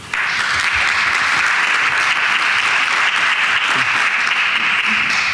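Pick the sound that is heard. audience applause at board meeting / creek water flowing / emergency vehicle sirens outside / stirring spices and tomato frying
audience applause at board meeting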